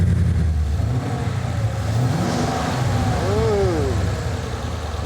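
A twin-turbocharged 2015 Ford Mustang GT V8 on drag radials idles with a steady loud rumble, then revs, its pitch climbing and falling, while people talk nearby.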